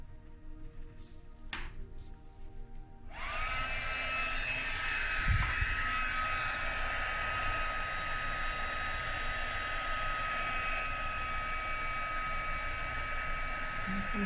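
An electric blower starts up after a few faint clicks and runs with a steady, close airy whir, pushing resin back across a beach-style serving tray.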